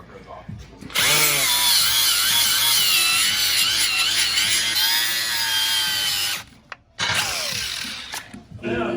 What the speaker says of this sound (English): We use this type of abrasive so it doesn't mar the aluminum more so on this side, but so it takes the gasket off without marring anything.